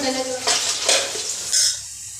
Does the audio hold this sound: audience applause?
no